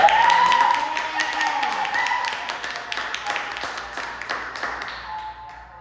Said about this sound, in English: A little applause for y'all.